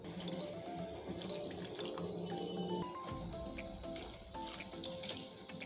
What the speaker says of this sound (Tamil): இப்போ நம்ம இதில் கொஞ்சமாக தண்ணி ஆட் பண்ணிடலாம்.